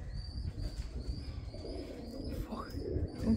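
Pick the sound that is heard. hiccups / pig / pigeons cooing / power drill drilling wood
pigeons cooing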